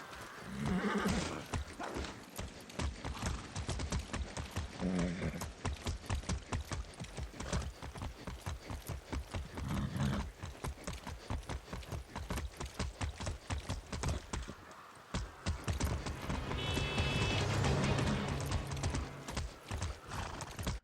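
In the video game Far Cry 6, steady, rhythmic hoofbeats clip-clop at a brisk pace, with a horse whinnying loudly early on and again near the end; the sounds are clean and game-like.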